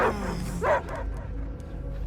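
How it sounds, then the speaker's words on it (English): A dog barks and yips a few times close by in a film scene, the bursts clustered near the start before trailing off over a low rumbling background. "I hear only barking."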